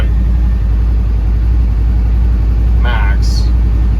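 A vehicle engine runs at maximum with the heater going, giving a constant loud low rumble and droning hum, with a brief chirping sound near the end.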